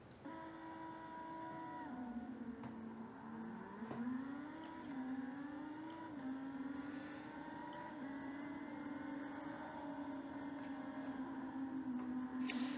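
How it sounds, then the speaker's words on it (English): Sprint car racing at Brands Hatch Indy in Automobilista 2, a continuous high engine whine climbing and settling through gear changes, with other cars' engines layered behind it, steady and fairly loud. "here we are all set and ready to go for our first race in the sprint car at Brands Hatch Indy"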